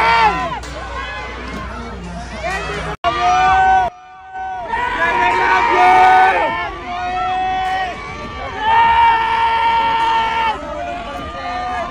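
Fanboys scream and cheer loudly at a live pop idol Wish Bus event, the shrill sustained shouts rising in waves over a dense crowd roar, with a sudden short dropout midway before the cheering surges again.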